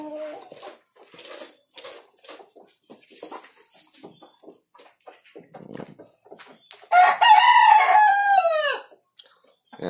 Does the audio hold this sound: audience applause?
no